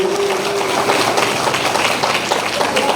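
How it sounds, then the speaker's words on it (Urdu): A church congregation claps together on Palm Sunday, steady dense applause from many hands held at an even loudness for a few seconds, with no talk over it. "کتنا خوش ہے، یہ تالیوں سے پتہ چلتا ہے۔"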